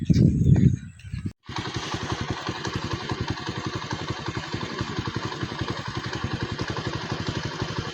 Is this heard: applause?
no